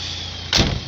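A single quick mechanical clunk of a Nissan NV200 van's door locks actuating over the steady hum of its idling diesel engine.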